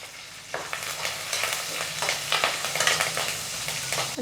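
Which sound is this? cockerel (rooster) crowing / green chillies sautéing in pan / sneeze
green chillies sautéing in pan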